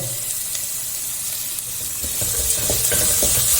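Vegetables sizzle and are stirred in a hot pan while a crab roast is being cooked: a continuous loud hiss with scraping stir strokes growing busier toward the end.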